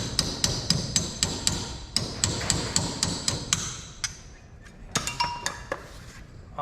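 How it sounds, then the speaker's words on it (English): A hammer taps repeatedly on the wheel hub seal of a 2003 Toyota Tacoma 4WD front hub, sharp metallic strikes in a quick steady rhythm that pauses briefly, then resumes, close and loud with no talking. "we're gonna tap this seal off."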